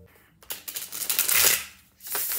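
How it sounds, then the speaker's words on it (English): A new, stiff tarot deck is shuffled by hand, giving a rising, riffling rush of card flutter, then a short pause and a second shorter burst, close and clear. "New deck. A little harder to shuffle."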